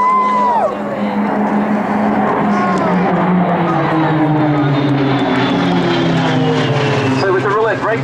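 RAAF Roulettes propeller aircraft roar past low in a full break manoeuvre at an air display, loud droning engines with falling pitch sweeps as several planes pull away, while people talk and cheer over the top.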